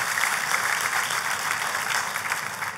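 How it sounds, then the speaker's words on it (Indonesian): A church congregation applauds during a communion service, a broad, even wash of clapping at a moderate level that continues steadily for nearly three seconds without speech. "Kita kasih tepuk tangan yang paling meriah buat Tuhan kita."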